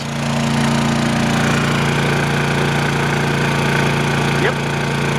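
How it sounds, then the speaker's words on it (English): A Honda generator engine runs steadily at high throttle, a loud continuous drone with a strong low hum that holds even throughout, a faint voice in the background. "I hear the generator has come off the EcoBoost and it's gone to high throttle mode"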